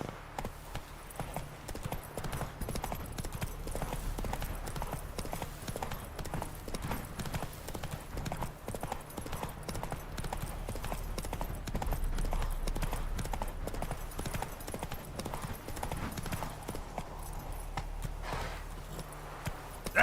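Rhythmic clip-clop of the horse Roach's hooves trotting steadily and close in The Witcher 3 video game, continuous over a low rumbling background with no talk.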